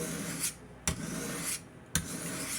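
A large thrift-shop kitchen knife drawn over a fine sharpening stone of about 400 grit, making a continuous close rasp with two sharp scraping strokes that stand out from the steady grinding.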